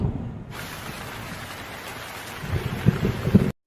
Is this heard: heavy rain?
yes